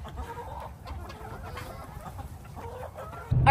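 Several chickens cluck softly and chatter nearby in short repeated calls, ending with a louder low thump.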